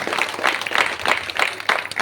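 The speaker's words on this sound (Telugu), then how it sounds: "ఒక్కసారి గట్టిగా క్లాప్స్ కొట్టాలి అందరు ప్రతి ఒక్కరికి" Audience at a women's self-employment awareness meeting clapping together, a steady wash of applause from a room full of people with uneven bursts rising and falling, no voices over it.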